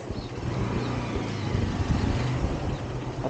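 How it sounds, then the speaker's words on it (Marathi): A truck passes on a road outside a house, its low engine rumble and tire roar filling the scene at a steady, moderately loud level before easing slightly. "अरे ट्रक गेला वाटतं"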